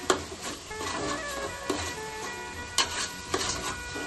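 Biryani masala fries in a pan for chicken biryani, a steady close crackle broken by several scraping stirs of a spoon. No one speaks.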